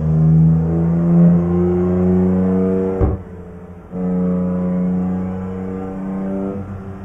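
A BMW car engine in Euro Truck Simulator 2 droning loudly and steadily, with a short drop in pitch around a gear change before the hum resumes.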